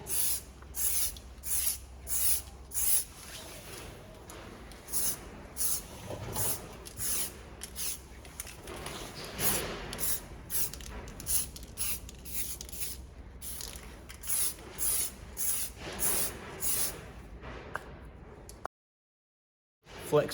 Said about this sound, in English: I'm just going to paint one side at a time, dry them off, and then do the other side.